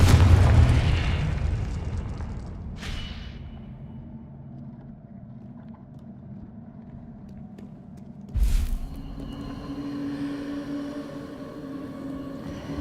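A Confringo fire blast spell in the Hogwarts Legacy video game lands with a heavy explosive boom at the start, fading into a low rumble, then a second sharp blast strikes later, followed by a lingering hum.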